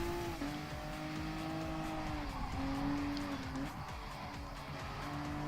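A Gran Turismo Sport Acura NSX races round a speedway with a high engine whine that climbs and drops through gear changes, ringing loud and steady with brief tyre-squeal touches.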